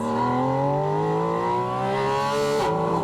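A Porsche 718 Spyder RS accelerates hard on Michelin Cup 2 tires, its engine note climbing steadily and loud through the revs before a quick shift dips the pitch near the end.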